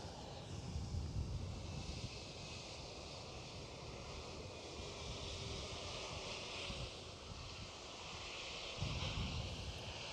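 An aircraft with Rolls-Royce RB211 engines warms up at Edinburgh Airport with a steady, distant engine drone and faint whine under wind-like rushing noise, continuous for the whole stretch.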